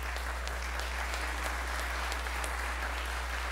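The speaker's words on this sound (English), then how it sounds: "Let's give the Rubens a round of applause." Town hall audience applauding steadily at a low, even level throughout, a dense wash of clapping with a constant low hum underneath.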